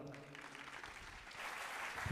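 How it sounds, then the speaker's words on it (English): A short burst of audience applause after a stage performance at a university foundation day celebration, a dense patter of clapping that swells slightly toward the end, with faint voices mixed in. "Give them a thundering applause."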